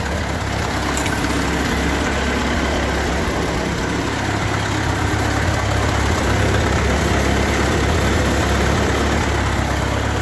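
A Ford 8N tractor engine runs at a steady idle, a loud continuous low rumble with constant mechanical clatter that holds evenly throughout with no talking.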